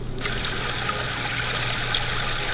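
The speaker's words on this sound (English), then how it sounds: "Water flowing from the Missouri River has been filling these farm fields in northwest Pottawatomie County all week" Missouri River water pours through a breached levee into farm fields in steady, broad rushing noise that holds an even, unbroken level from start to end.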